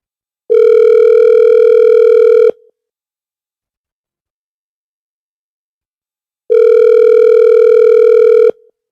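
A telephone tone sounds after a dropped call: two steady, loud, identical beeps about two seconds each, separated by a long silent gap, close and clean with nothing else audible.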